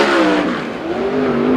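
A 410 sprint car's engine, a one-way Chevy in a DRC chassis, revs loudly on an oval track during USAC qualifying, a sustained high whine that dips slightly and climbs again, steady and close.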